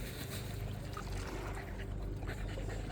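A motorboat engine runs on the sea near a shoreline, a steady low drone mixed with broad water and wind wash that holds at an even level throughout.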